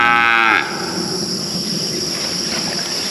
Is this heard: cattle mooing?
yes